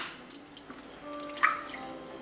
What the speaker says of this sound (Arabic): ومن بعد كنرجعوا الماء كنغسلوه جيدا.